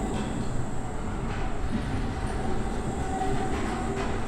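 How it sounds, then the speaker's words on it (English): A train in the video game Abiotic Factor rumbles along its track, a loud, steady rolling drone with faint rhythmic clatter and no voices. "Yeah, you can now take the train back, and it's a faster route, really."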